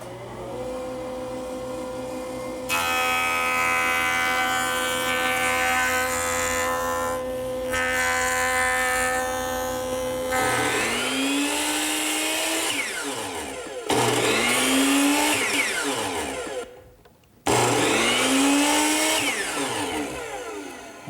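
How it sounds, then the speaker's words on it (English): A jointer powered up to smooth blade marks off wooden fence pickets, its fence tilted to 10 degrees, giving a loud steady motor whine broken by rising cutting passes as each picket is fed through, with brief pauses between. "To smooth up the marks left by the saw blade, I'm going to turn to my joiner."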